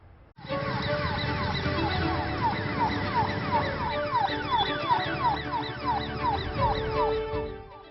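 An ambulance siren wails loudly and steadily for nearly the whole clip, its repeating rising-and-falling sweeps close by and alone over traffic rumble.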